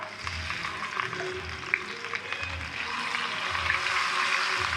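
Okra frying in oil on high heat in a home kitchen, a steady soft sizzle with faint crackles and low thumps throughout, no talking.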